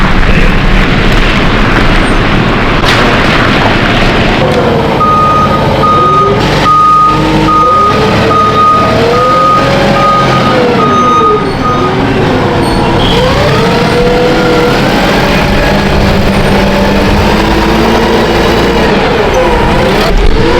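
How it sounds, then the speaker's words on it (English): Heavy trucks rumbling loudly nearby while a steady reversing beep sounds, engines droning and shifting pitch throughout. "they just showed up with a couple trucks"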